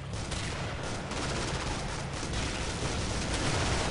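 Dense, continuous gunfire from the Killing Floor video game, rapid overlapping shots and blasts filling the mix at steady high loudness with no pauses, like a sustained fusillade.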